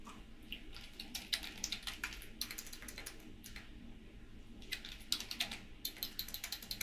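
Typing on a computer keyboard whose batteries seem to be dying, heard as bursts of close, clicky keystrokes in uneven runs with brief pauses between them.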